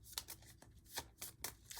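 A deck of cards for the Mistborn deckbuilding board game is shuffled by hand, a quick series of soft riffling and slapping bursts, close and quiet, with no talk.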